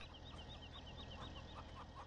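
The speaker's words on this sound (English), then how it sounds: "Cluck fest going on over here." Chickens cluck busily on a farm in a video game, a dense overlapping chatter of hens over a steady background bed.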